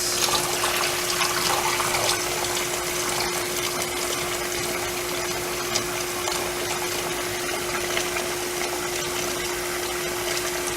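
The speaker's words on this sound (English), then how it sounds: "So I'm going to pour this out." Cloudy rice rinse water gushes out of a container in a steady, loud, continuous pour, with a constant hum running underneath and no voices.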